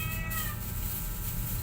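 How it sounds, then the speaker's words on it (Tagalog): A pet cat meows at feeding time with its food set out on plastic. One close, drawn-out meow comes early, over a steady low background hum. "pakainin ko muna siya. Ang aking alaga naman ang aking pusa naman."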